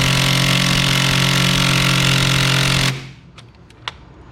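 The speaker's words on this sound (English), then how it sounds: "This drill's not strong enough." A power drill whirs loudly and steadily for about three seconds on a 13 mm bolt of a BMW 135i valve cover, then stops abruptly, followed by a few sharp metallic clicks and clanks.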